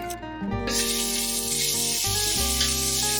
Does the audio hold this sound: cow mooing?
no